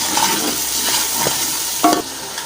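A pan of vegetable curry with chilli and salt is stirred over a steady sizzle, with several distinct spoon scrapes against the metal, one louder near the end, and no talking.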